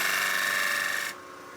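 A freshly sharpened 1/2 inch bowl gouge with a 5/8 bar cuts wood on a lathe, a steady, close, hissing scrape that holds evenly for about a second before dropping to a quieter whir.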